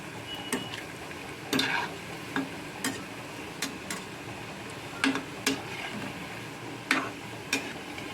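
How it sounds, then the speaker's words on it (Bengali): Potato fritters (aloo phuluri) fry in oil over a medium gas flame, a soft continuous sizzle broken by regular sharp ticks and clinks of a utensil against the pan, close and quiet. "গ্যাসের আঁচটা এখন মিডিয়ামে আছে এগুলো ভেজে তুলে নিচ্ছি"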